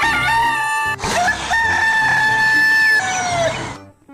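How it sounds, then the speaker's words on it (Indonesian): Toy rooster crowing loudly and close, a bright drawn-out cock-a-doodle-doo call repeated in two long phrases that fill the whole short stretch, with no one talking over it. "Ada ayam jantan."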